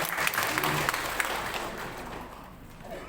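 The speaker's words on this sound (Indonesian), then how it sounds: "Kita beri tepuk tangan dulu untuk Dr. Beta." Applause from a church congregation at a health talk, a fairly loud wash of clapping at first that gradually thins and fades toward the end.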